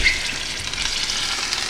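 Oxtail sautéing in a pan coated with melted fat gives a steady, close sizzle and frying hiss with faint stirring, constant and unbroken.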